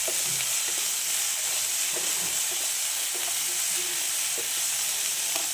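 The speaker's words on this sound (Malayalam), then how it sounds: "ഇളക്കിയെടുക്കാം" Onions sautéing with salt in a pan while being stirred for a prawn biryani: a steady, even sizzle and hiss fills the clip, with faint scraping stir sounds now and then, no talking.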